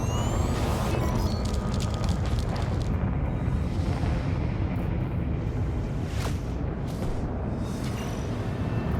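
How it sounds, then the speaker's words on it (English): A ship explosion in the space combat game Elite Dangerous, a loud, dense roaring rumble with crackling bursts that stays powerful for the full nine seconds and thins slightly in the upper range partway through. "Big explosion."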